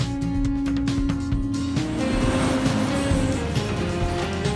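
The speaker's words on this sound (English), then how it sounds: "Seven, the forklift" A forklift's engine runs with a steady mechanical drone and low rumble, a clattering start giving way to continuous machine noise throughout, with no talking.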